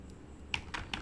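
Command being typed on a computer keyboard by a Linux user, a short burst of three or four crisp, close key clicks after a brief quiet start.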